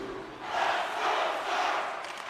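Broad crowd roar from a hockey arena in an ice hockey video game, swelling in waves of sustained cheering and noise for a couple of seconds with no clear talk on top.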